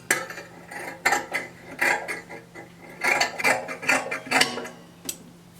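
Scissors cutting out dress fabric for a tie-front dress, giving a series of crisp snipping and clicking strokes at close range, irregular in rhythm, with no talking.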